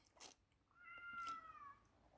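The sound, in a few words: cat meowing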